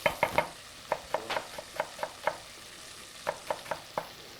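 Butter and onion in a hot Dutch oven, with soft sizzling under a series of sharp, evenly spaced clinks and taps as the pot is stirred, fairly quiet and with no talk.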